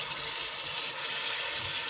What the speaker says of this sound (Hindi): ये देखिए इसमें पानी डाल देंगे, 1 गिलास हम पानी डाल देंगे